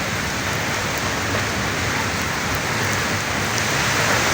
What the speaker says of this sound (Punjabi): ਬਾਰਿਸ਼ ਬੜੀ ਜ਼ੋਰ ਸ਼ੋਰ ਦੀ ਹੁੰਦੀ ਪਈ ਹੈ